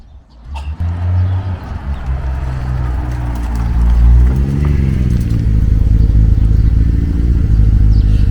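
A vehicle comes down a housing estate, its engine note building from faint to a loud, close rumble over several seconds, with bird calls and some clatter in the background.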